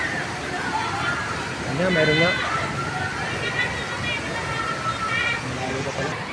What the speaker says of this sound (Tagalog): May bumubuhos dito na tubig eh.